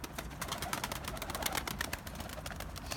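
Pigeons coo before being flown in cold weather, soft low cooing and bird sounds that are faint and somewhat distant over a steady outdoor background hiss.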